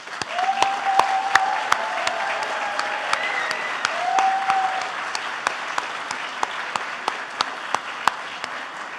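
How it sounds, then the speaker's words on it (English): A commencement ceremony audience at JTS breaks into a sustained round of applause, dense clapping filling the hall steadily for the whole stretch, with a few sharper individual claps standing out. "please join me in offering them a resounding round of applause."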